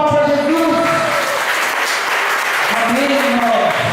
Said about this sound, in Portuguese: Pode dar uma calorosa salva de palmas para Jesus